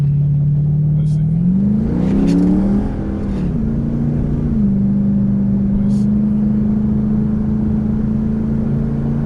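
A customized 2009 Pontiac G8 GT engine revs up and accelerates, its pitch rising then settling into a steady loud drone, with brief voice sounds over the top.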